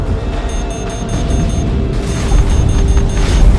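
Deep rumbling booms of missile explosions roll through a space battle in BSG Deadlock, a loud sustained low roar that swells louder midway with mechanical hum underneath.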